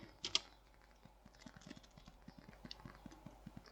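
Keys clicking on a computer keyboard while a command is entered and Enter is pressed: a quiet, uneven run of light taps, close by and alone.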